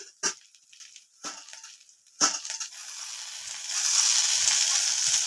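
Potatoes fry under a lid in a covered pan, with a few sharp clatters at first, then a steady hiss of sizzling oil that builds and holds.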